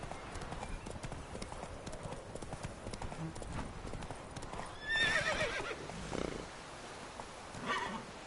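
Roach, a horse in the video game The Witcher 3, gallops with steady, close clip-clop hoofbeats, then gives a loud whinny midway before the hooves carry on.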